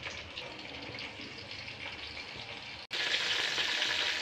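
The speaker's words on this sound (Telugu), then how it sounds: "కొద్దిగా చిట్లుతాయి కాబట్టి మూత పెట్టేసుకోండి దానిపైన" Tomato chutney with green chillies frying and spluttering in a pan, a steady dense sizzle that stops for a moment, then comes back louder and brighter.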